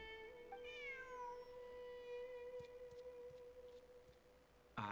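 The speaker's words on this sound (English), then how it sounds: "Who's a good kitty?" A cat meows in the video game Genshin Impact, one long, faint, tonal cry that rises at the start and holds steadily, alone over a quiet background hiss.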